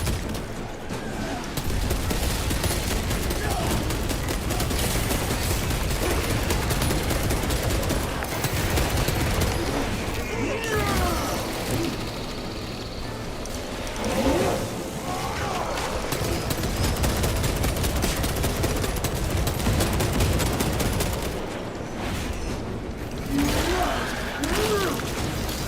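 Heavy bolter fire from the Space Marine video game, a dense sustained fusillade of loud, booming automatic shots that runs almost unbroken, with faint talk buried beneath.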